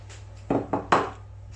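Peeled tomatoes for zaalouk going into a frying pan, with three quick, close clunks and scrapes of metal and food in a quiet kitchen.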